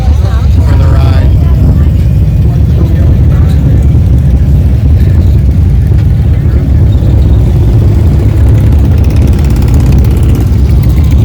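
A crowd of motorcycles idles together at a charity ride, a steady, dense low engine rumble filling the whole stretch with no break, loud and close.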